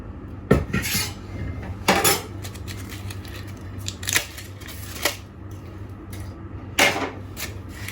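A clay pot covered with banana leaf is opened, giving scattered sharp clinks and scrapes of pottery and utensils with quiet pauses between them, close by and with no talking.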